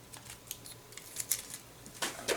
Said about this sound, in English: take my snips, trim off that errant piece of frond